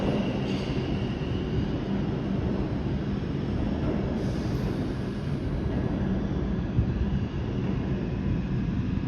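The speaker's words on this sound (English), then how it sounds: "Wow, the subway system here sure is loud." New York City subway train rumbling past with a dense, loud, continuous low roar and faint wheel squeal, close by and steady throughout with no voices.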